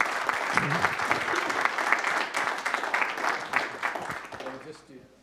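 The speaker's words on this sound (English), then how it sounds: "Let's give them one more round of applause, ladies and gentlemen." Sustained applause from a neighborhood council meeting audience greeting a new incoming board, dense clapping with a voice or two beneath, tapering off quickly at the end.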